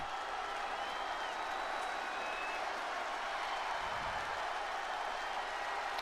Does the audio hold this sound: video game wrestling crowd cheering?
yes